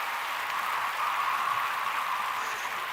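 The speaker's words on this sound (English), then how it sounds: "That means y'all supposed to clap." A studio audience claps in a steady, even patter of many hands, moderately loud and sustained with no distinct individual claps, heard alone without talk.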